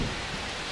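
Rain hisses steadily over a ballpark during a Chicago baseball video game against the St. Louis Cardinals, a brief, dense wash of falling drops with no voices.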